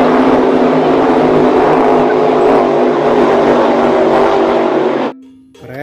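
A toy speedboat's motor whines in a loud, continuous, roaring drone for about five seconds, then cuts off, leaving a brief, quiet tail.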